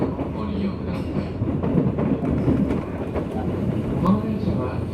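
A JR West 201 series commuter train on the Kansai Line (Yamatoji Line) bound for Kamo, heard as steady rumble and rail noise while a station platform announcement plays over it.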